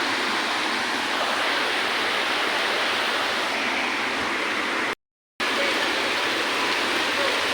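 Bukit Dinding waterfall on Gunung Jerai roars as a loud, dense, unbroken wash of falling water close by, with one brief dropout midway.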